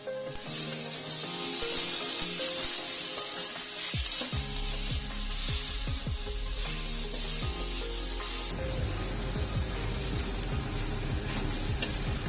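Tomatoes and spices sauté in hot oil for a Bengali toor dal tadka, a steady sizzle under repeated scraping stirs, with a fresh burst of frying partway through as more goes into the pan.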